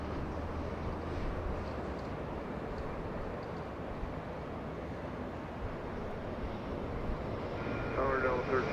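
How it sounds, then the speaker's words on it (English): A SkyWest Embraer E175 regional jet arriving from San Francisco at Los Angeles International Airport, a broad steady engine rumble that builds slightly toward the end. "SkyWest 158 from San Francisco, 56 minutes of flight time, a little Embraer E175"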